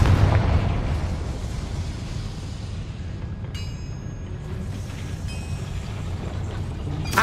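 A Confringo fire spell in Hogwarts Legacy bursts with a heavy, rumbling explosion that starts loud and decays into a long roaring tail, with brief magical chimes and shimmering tones later on.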